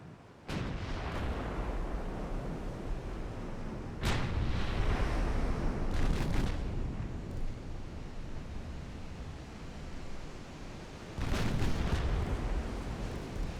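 Heavy naval gunfire from warships in the Ultimate Admiral Dreadnoughts game, a continuous rumbling roar broken by several booming salvos, loudest near the start, middle and end, with no talking.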